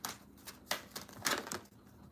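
Tarot cards being shuffled by hand produce a quick series of soft riffling slaps and flutters, close and quiet, with no talking.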